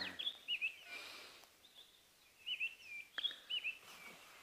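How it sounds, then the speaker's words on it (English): Birds sing at dawn on a safari outing, several short bright whistled phrases arriving in three clusters with pauses between them, fairly quiet and open-sounding, with no talking over them. "just listen to the bird song this morning."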